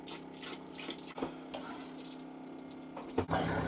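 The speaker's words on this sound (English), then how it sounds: "I'm just going to dump this in the black tank." Water gurgles and splashes steadily as liquid is dumped into the black tank of a travel trailer during winterizing, with a few knocks and a louder splash near the end.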